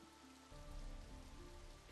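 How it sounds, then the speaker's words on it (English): Steady rain falling outside a manor at night in a video game, a soft continuous patter that thickens after a moment, faint and alone. "It's still raining."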